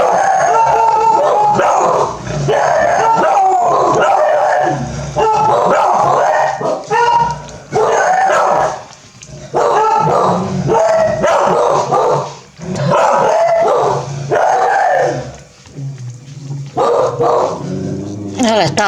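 A dog barks and howls repeatedly at close range, in loud bursts broken by short pauses, with people talking around it.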